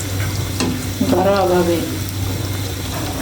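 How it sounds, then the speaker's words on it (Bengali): Cauliflower pakoras sizzle and bubble as they are dropped into hot oil one by one, a steady close frying hiss with a brief burst of bubbling, while someone speaks briefly over it. "ফুলকপিগুলো এখন আমি তেলে দিয়ে দেব।"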